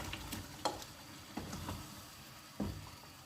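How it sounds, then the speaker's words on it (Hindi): Fried chicken pieces go back into a karahi of hot oil for achari gosht, giving a soft, quiet sizzle broken by a few sharp clinks and scrapes of stirring. "तो जो चिकन हमने फ्राई किया था वो इस कढ़ाई में दोबारा से ऐड कर देंगे"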